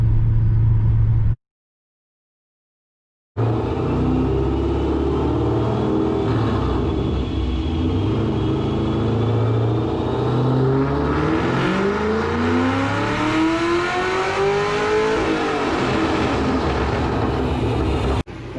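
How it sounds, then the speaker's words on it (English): A 2006 Pontiac GTO engine revs hard on a dyno, a loud sustained roar climbing steadily in pitch over many seconds after a brief silence, then dropping off at the end of the pull. "We just completed our first pull in the GTO."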